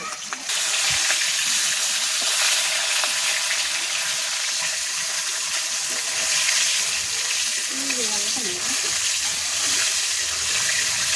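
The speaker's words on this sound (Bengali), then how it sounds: "এর জন্য ইলিশ মাছটাকে হালকা করে ভেজে নিতে হবে।" Hilsa fish pieces frying lightly in hot oil, a close steady hiss and sizzle throughout, with a voice briefly heard in the background near the end.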